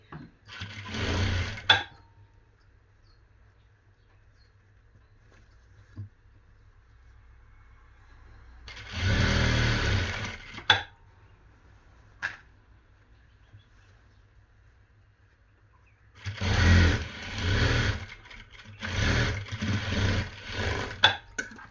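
A domestic sewing machine stitches a blouse in several separate bursts of steady motor whirring and needle chatter, with quiet pauses between them and no talking.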